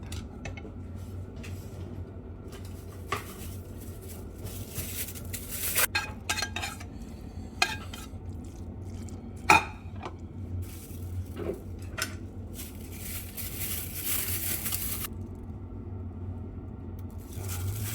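Cooked Korean japchae noodles with beef and vegetables are tossed in a pan, giving soft rustling, scraping and clinking of utensils against the pan, mostly quiet with occasional sharper knocks and no talk.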